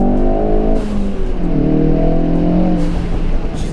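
A car accelerating hard in sport mode on a backroad: a loud, close engine note that climbs in pitch through the gears, dips briefly at a shift, then rises again, with no talking.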